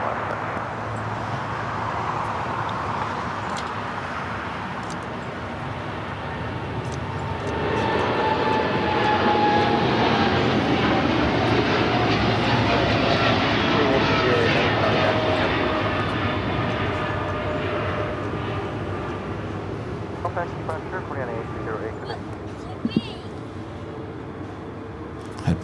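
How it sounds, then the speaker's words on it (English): A Qantas jet airliner turns onto final approach into Los Angeles International Airport. Its engine roar swells from a distant rumble to a loud, whining rush overhead, then slowly fades, with a few sharp clicks at the end. "now making that final turn, heading into Tom Bradley."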